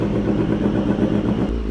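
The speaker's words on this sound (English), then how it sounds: "Sounds like a proper race bike now." A BMW HP4 Race motorcycle with an SC Project exhaust rumbles loud and close, its deep, uneven engine note revving briefly with no voices.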